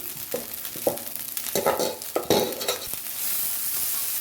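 Cooked rice is stirred into fried egg in a hot pan with a series of loud, close scraping strokes over a constant sizzle, and no one speaks.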